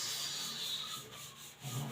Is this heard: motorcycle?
no